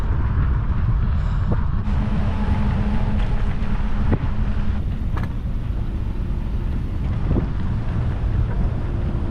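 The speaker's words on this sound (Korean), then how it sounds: "오늘 바람이 세가지고 조금 힘드네" Strong wind buffets a microphone while cycling along a Danish coastal road by the North Sea, a steady loud roar filling the whole stretch with a few faint knocks and passing vehicle noise beneath.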